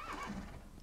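A brief, quiet horse whinny from the video game Minecraft, a short rising-then-falling call lasting under a second with no talking.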